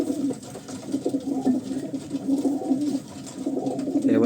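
Pet pigeons coo in a continuous chorus of soft, rhythmic low calls, close by and steady for the whole stretch.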